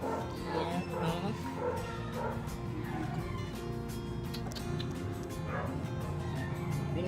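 A young puppy yips and whimpers in short, repeated high cries close by, over a steady low background hum, with no clear pauses.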